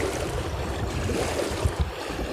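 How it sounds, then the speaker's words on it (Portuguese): Loud, continuous rushing of agitated water at the Jati dam, with a roaring churn and a couple of heavier surges near the end. "o barulho das águas também vocês estão ouvindo"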